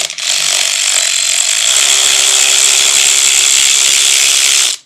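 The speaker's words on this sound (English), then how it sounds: "These 3/8 ratchets, electric ratchets, do really well." An electric 3/8-inch ratchet spinning on a Honda CT90 engine during head gasket work, giving a loud, steady motorized whir that runs unbroken for several seconds before cutting off abruptly, with no talk.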